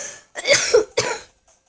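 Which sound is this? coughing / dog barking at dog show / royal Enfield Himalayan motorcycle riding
coughing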